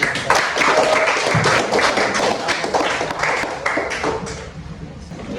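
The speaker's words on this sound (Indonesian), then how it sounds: "silakan kita beri tepuk tangan" Students in a classroom clap after a group presentation. A room of hands claps near and fairly loud, with some uneven, tapping-like beats, then thins out and fades over about five seconds.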